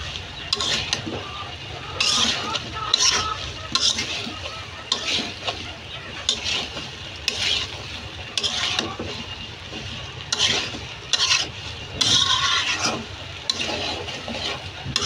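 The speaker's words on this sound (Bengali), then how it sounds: "আমের সাথে সর্ষে মশলা ভালো করে নেড়ে চেড়ে মিশিয়ে নেব।" Mango pieces coated in fried mustard spice mix are stirred in a pan, with steady scraping strokes over a continuous sizzling background.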